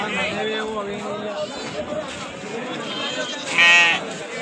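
Sheep and lambs bleat amid a crowded, noisy sheep market in Magadi with people talking, one sharp nearby bleat standing out near the end.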